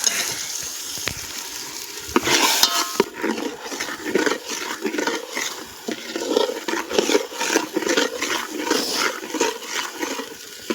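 Homemade village chicken and mutton curry sizzles and bubbles in a pot as it is stirred, a steady close frying hiss with scraping stir strokes and a few louder clanks near the start.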